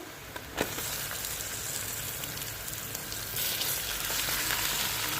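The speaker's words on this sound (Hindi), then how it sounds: "प्याज जो है वो फ्राई हो चुका है, आप देख सकते हैं। अब हम इसमें गोश्त डाल देंगे।" Meat dropped into a pan of fried onions for arvi gosht, a Hindi-Urdu taro root and meat curry, gives a steady broad sizzle with a brief clatter early on, and it grows louder about midway. No one speaks.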